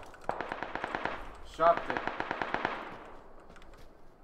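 Rapid automatic gunfire in PUBG, two long bursts of evenly spaced shots with a louder crack in the gap between them, moderately close, while a player speaks briefly.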